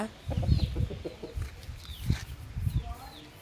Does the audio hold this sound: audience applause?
no